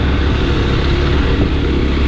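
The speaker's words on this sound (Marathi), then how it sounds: "भयंकर भाई घाटावर ट्रॅफिक आहे" Dense traffic crawls along a mountain ghat road near Surat, held up by a truck accident; a steady wash of car and motorcycle engines and road rumble runs close and loud without a break.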